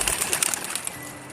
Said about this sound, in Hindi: चिड़िया खुशी से चहकते हुए काव काव करने लगता है